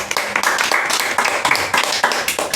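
Hands clap in a dense, steady burst of applause from a small group at an indoor talk-show style business chat, filling the space with quick overlapping claps that hold close and loud throughout.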